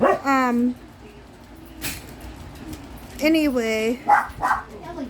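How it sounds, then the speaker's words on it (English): A pet dog barks a few times in a home, the barks blending with a nearby speaking voice that runs over much of the sound. "if you hear a dog in the background"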